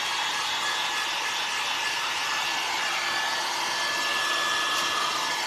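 A heat tool blows steadily at close range while drying a rustic primitive sunflower craft, giving a constant airy whir with no talking.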